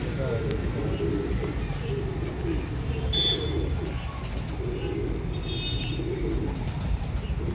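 Pigeons with white eyes and large wings coo in soft, repeated calls at close range, with a few faint chirps and a steady background murmur, while people talk nearby.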